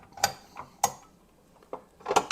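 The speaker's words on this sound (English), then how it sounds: "we're going to switch to our paddle attachment" A stand mixer being switched to its paddle attachment gives a few sharp metallic clicks and clanks, spaced irregularly and close, with quiet gaps between them.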